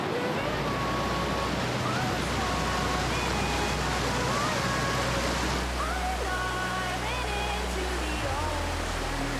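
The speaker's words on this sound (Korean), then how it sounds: "호수에서 시작된 물줄기가 계단식 지형을 따라 다채롭게 흘러내리고 우렁찬 물소리가 마음 가득 생동감을 불어넣는다." Plitvice waterfalls in Croatia, lake-fed streams cascading down terraced terrain, make a steady, full broadband rush of falling water that fills the whole stretch, with a narrator's voice running over it.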